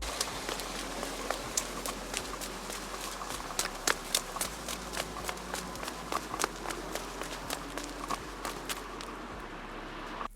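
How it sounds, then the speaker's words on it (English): Footsteps cross large stone steppers laid along a front-yard pond pathway: crisp, regular, close-up footfalls at an even walking pace for about ten seconds over a faint low hum. "I'm leaving it unmuted so you can hear my pitter patter."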